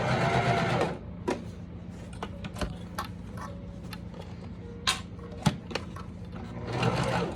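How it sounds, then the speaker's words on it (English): Sewing machine stitching around the lining of a zipper pouch at a quarter-inch seam, with a loud close whir at the start and end and quieter clicks and clunks between while the fabric is repositioned. "Sew that at about 1/4 inch."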